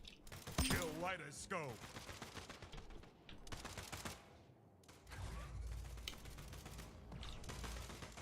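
Gunfire from a video game shooter rattles in bursts through dense game audio and sound effects, loud and close, with a player's voice talking over parts of it.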